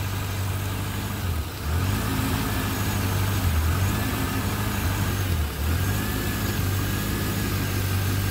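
An older Corvette engine runs rough, a loud, uneven mid-pitched idle that dips and surges in a roughly regular cycle, with no talk.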